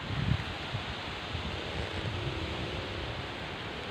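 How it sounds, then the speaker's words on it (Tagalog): Steady wind roars and buffets the microphone in a continuous broadband rush, with no talking, beside a fruit-laden bitter orange tree. "Malakas ang hangin dito"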